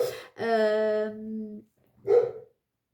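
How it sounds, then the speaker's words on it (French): Dogs bark indoors: a long drawn-out howling bark followed by a short sharp bark after a brief pause, close and fairly loud. "Je vais voir si mes chiens se calment un petit peu."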